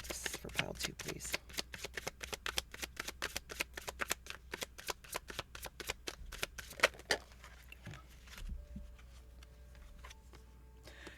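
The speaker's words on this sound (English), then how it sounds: "before I shuffled this deck" A deck of tarot cards is riffled and shuffled close up in a rapid, even flutter of crisp snaps that slows and thins out toward the end.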